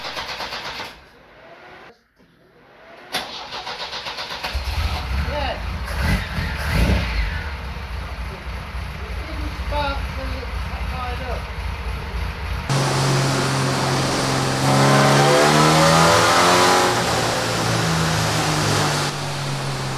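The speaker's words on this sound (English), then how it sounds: "That supercharger whine is brilliant." A supercharged MGB B-Series engine cranks, catches and starts, then idles and revs with a steady high supercharger whine riding on top of the rumble; no speech.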